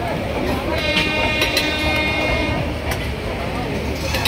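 A passenger train runs along the line toward Kharagpur, a steady loud rumble of wheels and carriage noise throughout, with a brief horn-like tone and voices in the background.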